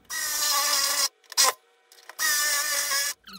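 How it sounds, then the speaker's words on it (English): A power drill bores out spot welds on a steel car door skin in two sustained, harsh grinding bursts, separated by short scraping and clicking, heard up close with no talking. "So I'm going to get my drill and drill them out"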